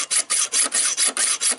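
Hacksaw strokes rasping through knife steel, about eight steady back-and-forth passes with a brief gap between each, close and fairly loud with no voices.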